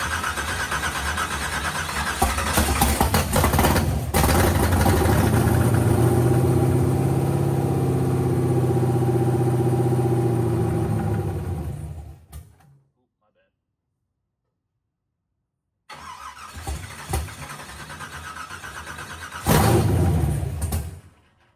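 A 40+ year old car engine cranks, catches and idles loudly and steadily for about ten seconds, cuts out into silence, then is restarted with a brief rev near the end.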